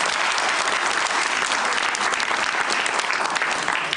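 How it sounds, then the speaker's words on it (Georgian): A studio audience at a Georgian late-night comedy show gives dense, continuous applause that stays loud and steady from start to finish. "ტაში."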